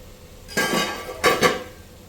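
Washed, soaked rice is tipped into a frying pan with a short rushing clatter, followed by two quick metallic clinks of a spoon against the pan in a quiet kitchen.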